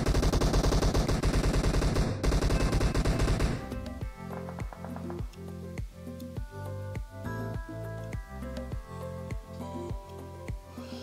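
Dense, loud gunfire from a shooting video game rattles continuously for about three and a half seconds, then gives way to rhythmic game music with a steady beat.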